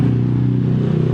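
A Honda Beat Deluxe scooter's engine starts and idles with a steady low throb and rhythmic ticking pulses, loud and close, with no talk over it.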